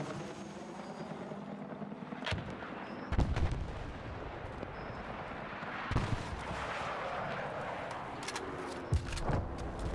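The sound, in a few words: RPK gunfire in video game Battlefield 6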